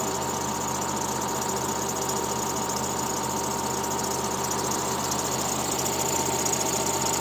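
A John Deere excavator engine running steadily with its air conditioning compressor engaged, a constant loud mechanical drone with a fine rattling texture and no pauses.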